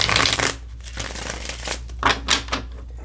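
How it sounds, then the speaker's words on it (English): Tarot cards riffled and shuffled close up, a loud papery flurry at first, then a few softer riffling bursts. "Let's give it a good shuffle."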